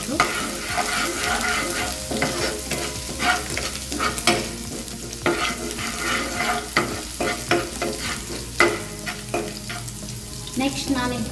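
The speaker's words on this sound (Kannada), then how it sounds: "ಮತ್ತು ಶುಂಠಿನ ಸೇರಿಸ್ತಾ ಇದ್ದೀನಿ. ಹಸಿ ವಾಸನೆ ಹೋಗೋವರೆಗೂ ಚೆನ್ನಾಗಿ ಫ್ರೈ ಮಾಡಬೇಕು." Ginger frying and being stirred in a pan for vegetable pasta, a steady sizzle broken by repeated scraping spoon strokes, close and alone.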